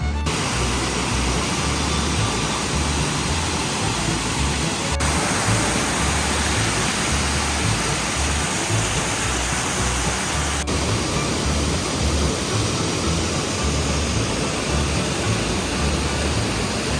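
The Holly River waterfall in Holly River State Park, West Virginia, rushes in a loud, unbroken roar of falling water, steady and close for the whole stretch with no talking.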